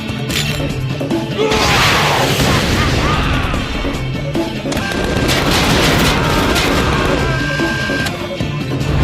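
Rocket explosions in the video game Tales from the Borderlands: dense, continuous booms and crashing blasts fill the whole stretch, loud and close, with brief voices mixed into the chaos.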